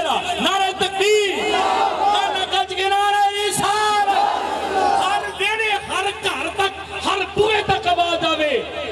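A large crowd at a religious gathering shouts the naara-e-takbeer slogan in unison, loud rhythmic bursts of massed voices answering a leader, with chanting and cheering throughout.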